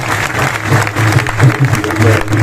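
Loud applause from a business seminar audience cheering royalty achievers: dense crowd clapping close and strong throughout, with a low hum and voices underneath.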